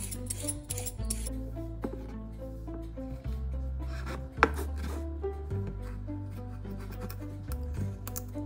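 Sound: chopping carrots and onions

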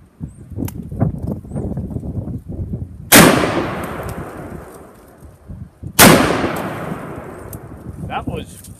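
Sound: Smith & Wesson 500 revolver gunshot

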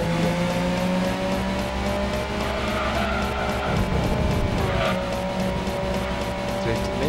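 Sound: car spinning and skidding in video game Gran Turismo 2

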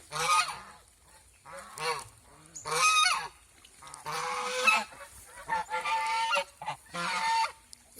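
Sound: domestic geese honking on a goose farm

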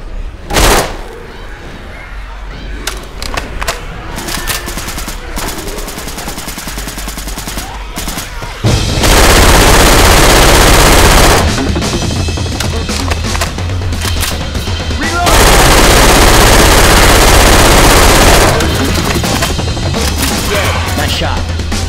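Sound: gunfire in the video game Left 4 Dead 2

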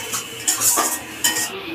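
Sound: stirring and sautéing spice mix in a pan

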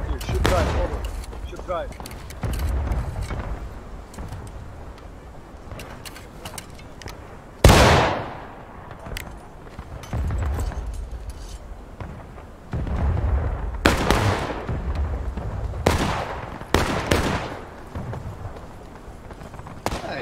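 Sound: musket volley fire in the video game War of Rights

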